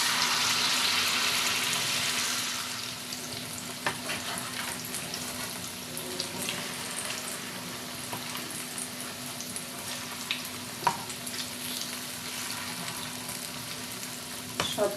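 Egg chops coated in rice-flour batter frying in hot oil, a steady close sizzle that starts louder and settles into a softer hiss, with occasional clinks and stirring sounds.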